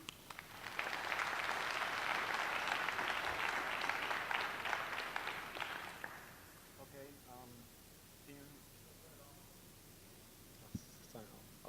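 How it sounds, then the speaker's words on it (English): Applause from a conference audience for two speakers, a dense burst of clapping lasting about five seconds that fades out, followed by quiet room noise and faint voices. "So please give a warm round of applause to our two speakers, James and Burton."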